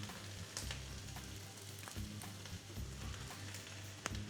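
Chicken and vegetables with five spice sizzle in a stir fry pan, a steady close hiss with occasional faint clinks and stirring sounds, no voices.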